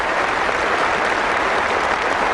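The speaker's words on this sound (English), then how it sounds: "This crowd rise on their feet to applaud." A cricket crowd at the 1977 Ashes Test rises to applaud a batsman's century, a dense, steady roar of clapping filling the whole stretch without a break.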